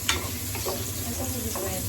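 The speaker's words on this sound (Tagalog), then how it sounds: "Isa muna natin yung sibuyas" Onions frying in a pan for yakisoba, a steady close sizzle with a few stirring scrapes and a small click at the start.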